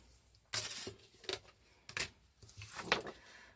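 Scissors snip white paper away from a die-cut craft piece in a few sharp, close cuts separated by short pauses, with a bit of rustling toward the end.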